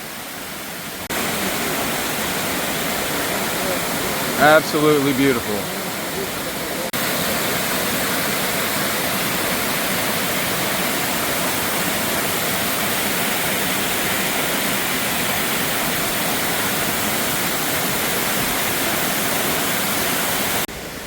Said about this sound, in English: that's a tall waterfall right there